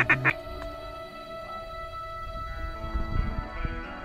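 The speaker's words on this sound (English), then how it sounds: "That was like a whole mix of ducks there." A mixed flock of ducks quacks on opening day of a North Dakota duck hunt. A few loud calls come close at first, then fainter quacks follow in the background.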